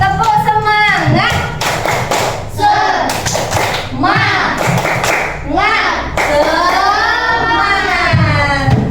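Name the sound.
rhythmic group clapping chant (tepuk semangat)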